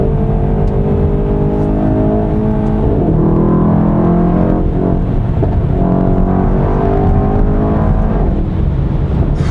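Steady engine roar from inside a Mercedes-AMG E63 S Edition 1 4MATIC+ as it accelerates along a straight, the note rising in pitch through the middle before levelling off, heard continuously without talk.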